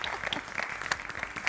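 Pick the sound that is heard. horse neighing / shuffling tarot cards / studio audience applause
studio audience applause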